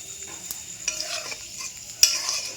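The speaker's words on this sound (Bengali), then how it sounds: "তেল গরম হয়ে গেছে, তেজপাতা দিয়ে দেবো আর একটু সামান্য জিরে ফোড়ন দিয়ে দেবো" Bay leaf and cumin seeds fry in hot mustard oil with a soft, steady sizzle and faint crackles, broken by a few sharp clinks of a spoon stirring the pan.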